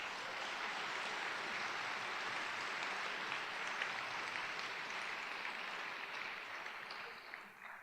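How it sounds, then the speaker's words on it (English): Audience applause at an oath of office ceremony, honoring educators, as a steady broad wash of clapping that holds for several seconds before tapering slightly at the end. "A big round of applause to them."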